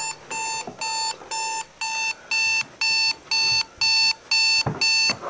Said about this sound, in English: And why is it going off if the alarm is off?